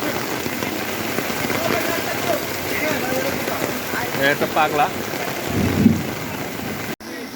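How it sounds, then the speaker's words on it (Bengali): Heavy rain pours steadily at an outdoor cattle market during Qurbani season, a dense close hiss with a low rumble, while voices talk over it and a person speaks briefly. "প্রচুর বৃষ্টি"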